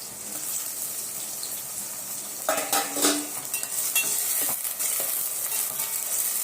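Onions and tomatoes sautéing in a pan for an eggplant kara kuzhambu: a soft sizzle under clinking spoon-and-pan scrapes and stirring clatter that grows busier after a quiet start, close up with no talking.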